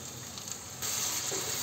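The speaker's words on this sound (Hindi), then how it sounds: "अब मैं इसमें थोड़ा पानी डाल दूंगी।" Water is poured into a frying onion-tomato masala for an egg and potato bhujia with fenugreek, a steady sizzle that suddenly swells into a louder, hissing gush partway through and stays loud, with no voices over it.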